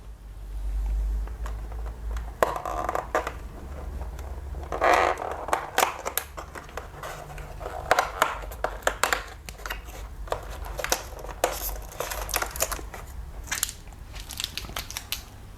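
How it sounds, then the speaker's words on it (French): A small chocolate being unwrapped from an advent calendar: crisp, close crinkling and rustling of foil or wrapper in irregular bursts, with soft crackles and handling sounds throughout, no talk. "nous avons un petit chocolat à déballer"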